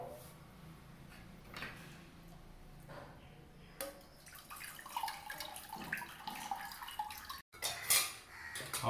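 Tamarind pulp soaked in water is strained in a home kitchen, with wet sloshing, trickling and light clinks of a vessel under steady low kitchen noise, growing busier and louder toward the end.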